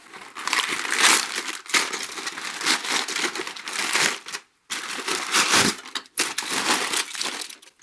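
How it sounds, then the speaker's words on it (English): Aluminum foil unwrapped by hand from a still-warm mill part in a workshop, giving loud crinkling and crushing bursts over several seconds with a brief pause midway and no talking. "I can put my hands on the outside of the foil here, so let's go ahead and unwrap it"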